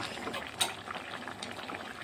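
A jackfruit curry with prawns simmers in a pot, giving a quiet, continuous bubbling with a brief brighter splash near the start.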